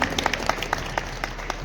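Applause from an audience at a school Holi gathering and public service honour ceremony, a brief patter of scattered clapping with faint sharp claps standing out over a steady crowd murmur.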